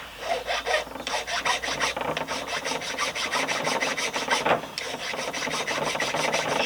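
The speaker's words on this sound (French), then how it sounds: "Je prends une petite lime." A small hand file rasps back and forth across the end of a threaded rod held in a vise, in a brisk steady rhythm of short gritty strokes, close and alone.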